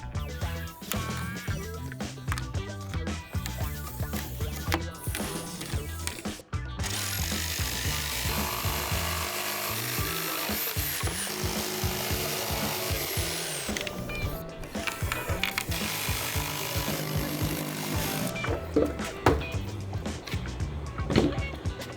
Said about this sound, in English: I'm going to go ahead and cut out the 3 12-inch by 12-inch pieces that I need first.